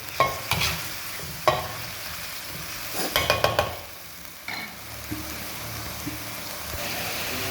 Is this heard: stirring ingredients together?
yes